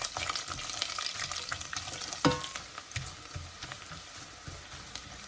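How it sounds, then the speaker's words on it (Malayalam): Sliced garlic sizzles in hot oil with popped mustard seeds and fenugreek, cooking on low flame for a lemon pickle. A steady close crackle runs throughout, with a brief sharp knock near the middle. "ഉലുവയും പൊട്ടിയിട്ടുണ്ട് അതിലേക്ക് നമുക്ക് സ്ലൈസ് ചെയ്ത് വെച്ചിരിക്കുന്ന വെളുത്തുള്ളി ഇട്ട് കൊടുക്കാം ഈ വെളുത്തുള്ളി ഇതിൽ കിടന്ന് ഒന്ന് ചെറുതായി ഒന്ന് വാടി വരാൻ വേണ്ടി"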